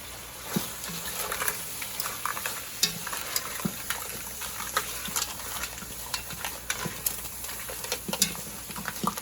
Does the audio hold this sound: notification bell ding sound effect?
no